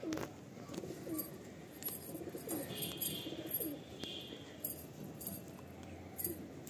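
Madrasi pigeons in a full loft in Kolkata give soft, intermittent coos at moderate distance over a busy background hum, with a light metallic jingle now and then.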